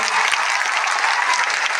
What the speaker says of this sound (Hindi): अपने लिए एक बार जोरदार तालियां बजा दो और जोर बजा दो यार